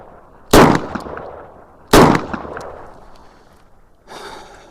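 A Chiappa Rhino revolver fires two loud, sharp shots about one and a half seconds apart, each with a short ringing tail, followed by a quieter rustle.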